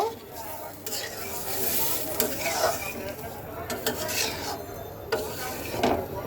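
A spoon scrapes and stirs through mustard hilsa curry in a pan just after water is added, over a steady sizzle, with irregular clinks and rubbing sounds close by.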